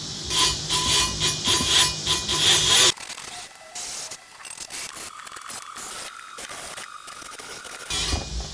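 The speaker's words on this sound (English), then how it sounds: "Using just a wire wheel on aluminum" An end brush wire wheel on a die grinder scrubs aluminum with a loud, gritty whir for about three seconds, followed by quieter scratching and rubbing, then another short burst of brushing at the end.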